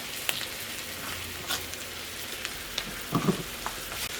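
Half a kilogram of beef browning in a hot pan, a steady soft sizzle with scattered pops and faint crackles, close by and alone with no talking.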